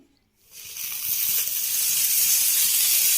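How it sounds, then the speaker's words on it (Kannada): Strained cluster beans drop into a little hot oil. After a short silence a loud hiss bursts in and settles into a steady, bright sizzle close by. "ಇವಾಗ ಸೋಸಿಟ್ಕೊಂಡಿರೋ ಚೌಳಿಕಾಯಿನ ಹುರ್ಕೊಳ್ಬೇಕು."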